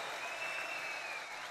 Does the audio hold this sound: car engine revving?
no